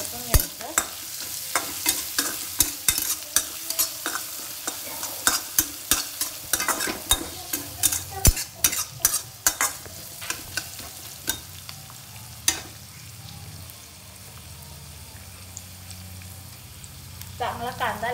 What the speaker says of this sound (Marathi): आता हे सर्व चांगलं परतून घ्यायचं।